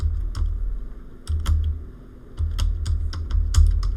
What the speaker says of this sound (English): now I'm going to type in her name, Mary